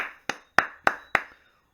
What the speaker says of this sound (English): Clap yourselves.